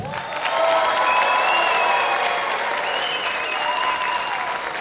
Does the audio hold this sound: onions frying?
no